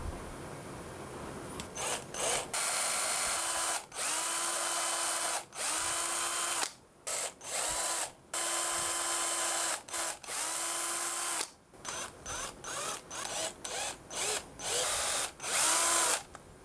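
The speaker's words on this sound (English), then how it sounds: "Now I want to go ahead and drill the holes for the tie-on eye, the tail eye, and the belly hook eye." A power drill boring tie-on, tail and belly hook eye holes into a wooden walk-the-dog topwater lure, in repeated close, loud whirring bursts with short pauses between them.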